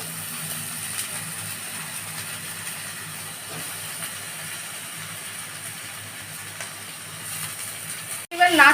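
Brinjal hisses steadily as it fries in hot tempered oil with drumstick greens, a broad, even sizzle that holds for several seconds before a brief clatter near the end.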